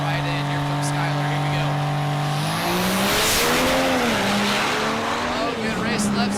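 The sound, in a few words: drag racing trucks launching down the strip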